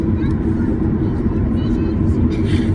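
Steady, loud low rumble fills the cabin of a Norwegian Boeing 737-8 waiting for takeoff at London Gatwick, an unbroken engine and airflow drone with faint murmured voices above it.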